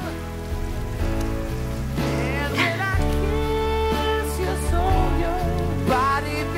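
Rain falls outdoors in a steady, soft wash beneath prominent music throughout.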